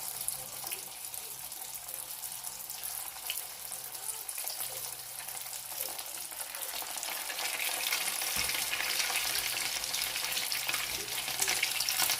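Tofu martabak wrapped in lumpia skins frying in hot oil, giving a steady, loud sizzle and crackle that builds slightly toward the end, with no talking.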